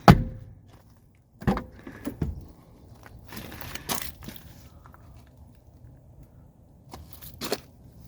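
Door of a 1985 Mercedes 300D shut with a solid, dull thud, followed by several quieter clunks and handling knocks, with no talking.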